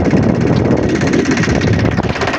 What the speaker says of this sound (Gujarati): બીજું ટ્રેક્ટર પણ આવી ગયું છે લેવા માટે